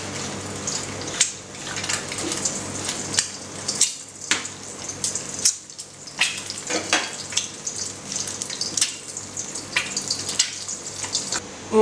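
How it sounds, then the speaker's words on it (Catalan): An egg frying in plenty of oil with a pinch of salt, a continuous crackling sizzle with bursts of spattering and brief lulls, close and alone without talk. "Fregirem l'ou amb abundant oli"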